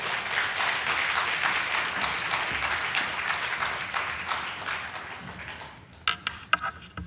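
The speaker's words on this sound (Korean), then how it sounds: "크게 박수로 환영해 주시겠습니다." Congregation at a Busan church's united worship service applauds to welcome a visiting pastor, a loud, dense burst of clapping that slowly fades and thins into a few scattered, separate claps near the end.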